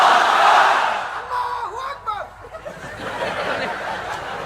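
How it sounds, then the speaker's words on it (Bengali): A large crowd at an Islamic sermon gathering roars the takbir together in unison, a loud massed shout at the start that fades into a lone voice and scattered crowd noise. "সবাই মিলে তিনটা পড়েন, লিল্লাহি তাকবীর।"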